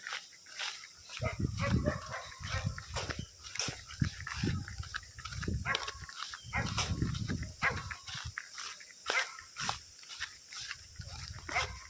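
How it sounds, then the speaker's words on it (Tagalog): A dog barks repeatedly in short bursts, fairly close, with other barks and movement noises around it. "may aso pa"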